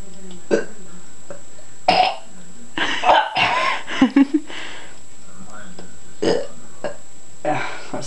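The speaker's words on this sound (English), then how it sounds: "Wait, hold on. Can't burp?" A person burps several times after drinking a can of Rip It energy drink, short guttural eructations interleaved with casual talk and a cough-like sound, close and moderately loud.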